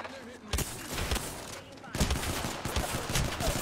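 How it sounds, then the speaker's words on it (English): Rapid gunfire in the Apex Legends video game, bursts of shots crackling throughout with a sharp jump in intensity partway, fairly loud against game noise. "Where did that last shot go?"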